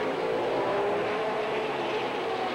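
Late model race cars roar around Plymouth Speedway in a dense, continuous wall of engine noise, several cars blending together at a steady loud level with no gaps.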